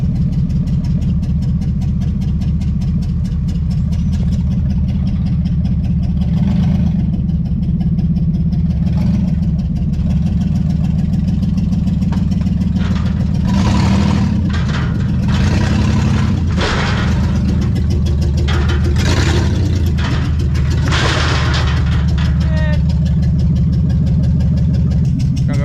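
A cheap, worn Toyota 4Runner idles with a steady, loud low engine rumble, swelling with a few revs and gear engagements as it is driven off a trailer for an off-road project.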